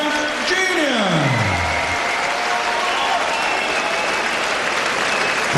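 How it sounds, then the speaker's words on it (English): Arena crowd at a professional boxing match applauding steadily, a dense wash of clapping that holds throughout, with a voice speaking briefly near the start. "arena gives its applause to a very, very brave opponent"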